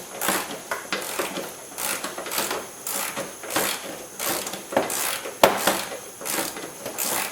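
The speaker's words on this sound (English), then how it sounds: "We're going to use a 10mm socket. Right there on the center." A 10mm socket ratchet loosens a front bumper bolt on a 1998 Subaru Impreza, giving repeated close bursts of rapid clicking in an uneven rhythm.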